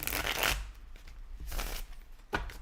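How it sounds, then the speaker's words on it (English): Tarot cards being shuffled in a few quick riffling bursts, close and fairly loud, with short pauses between shuffles. "I have to literally almost bend them in half to get them to shuffle properly."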